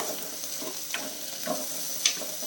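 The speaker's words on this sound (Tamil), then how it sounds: "கோவைக்காய் சேர்த்து வதக்கிடலாம்" Ivy gourd (kovakkai) sautés in a pan for a fishless fish curry, with a soft, steady frying hiss broken by a few brief scrapes from stirring.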